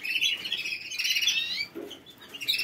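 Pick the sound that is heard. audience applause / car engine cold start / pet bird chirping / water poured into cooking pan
pet bird chirping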